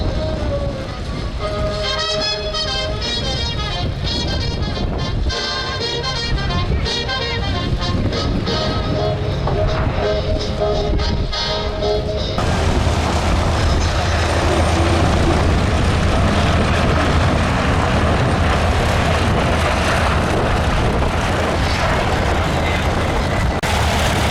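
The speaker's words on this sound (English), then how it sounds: "This display is today's only jet engine aircraft." A jet engine aircraft roars through an airshow flying display, a loud, continuous broadband rush that swells and shifts pitch, with a brief whistling tone early on before the sound becomes a dense, steady roar.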